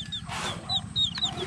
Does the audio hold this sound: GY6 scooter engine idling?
no